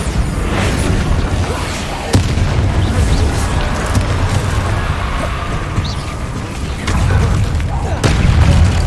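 Spell explosions from a Hogwarts Legacy battle boom and crackle continuously with heavy low rumble, sharp blasts standing out near the start and end, while a voice calls out over the din.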